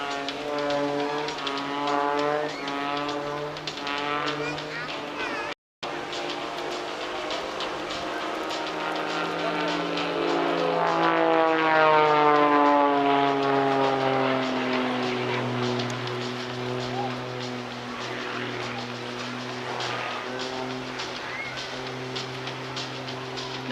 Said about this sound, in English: Is literally just pausing in the sky, going at 0 miles per hour, hanging the aircraft on the prop as he then tumbles down, gaining some airspeed